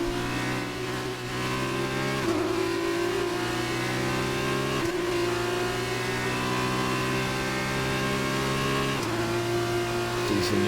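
An F1 race car engine in the F1 2019 video game, a loud continuous high-pitched whine holding and shifting pitch through gear changes for around ten seconds, with no pauses.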